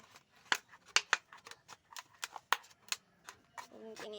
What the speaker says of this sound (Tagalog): Kung hindi makaya ng gunting, kukutsilyoin na lang natin mga kalapatids.